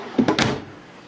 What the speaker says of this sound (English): And then you have one, two, three, four drawers that all fully extend.